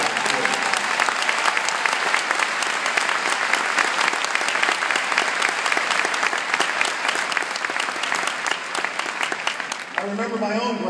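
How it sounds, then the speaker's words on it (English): A large graduation audience applauds the faculty and staff, sustained loud clapping filling a big hall for about ten seconds before fading as a voice begins to speak. "please applaud this faculty and staff"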